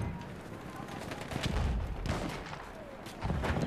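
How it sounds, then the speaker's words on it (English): Rapid gunfire crackles in bursts from an anti-aircraft position in Battlefield 1, fairly quiet, with sharper volleys around the middle and end over a rumbling battlefield background. "I'm gonna try and just shoot them as they cross over."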